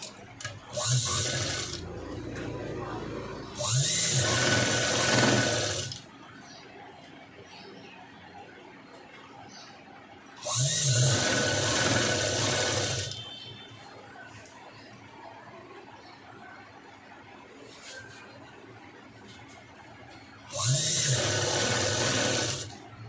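A sewing machine stitches a blouse lining in three distinct bursts of rapid mechanical clatter, each lasting a few seconds. Quieter pauses sit between the bursts, with faint room noise and background chatter.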